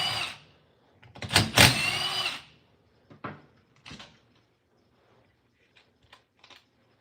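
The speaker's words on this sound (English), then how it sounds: "Take the jug bolts out, 4 of them." Four jug bolts come out of a Stihl MS250C chainsaw during a teardown: a dense burst of close metallic clatter and clicks early on, then scattered sharper taps and rattles with quiet gaps between.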